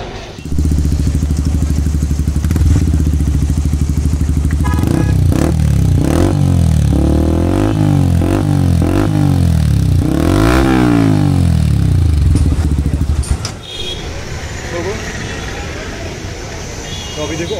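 A Yamaha R15 V4 motorcycle fitted with a long Akrapovic exhaust revs loudly up close, with repeated rising and falling throttle blips before dropping back to idle.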